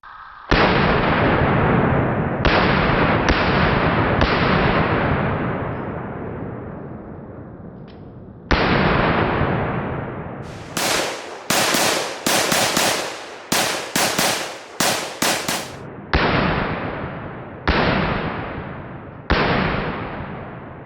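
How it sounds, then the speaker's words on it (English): A FEG SA-85M AK-pattern rifle fires outdoors, a loud sequence of sharp blasts: spaced single shots with lingering echoes at first, then a rapid string of closely spaced reports, then more evenly spaced shots. "And here's a little more shooting footage."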